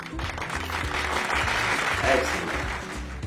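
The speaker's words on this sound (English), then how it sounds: "A big applause to all of you." An audience claps for a puppet show, a dense steady patter of many hands that fills the whole moment, with voices mixed in underneath.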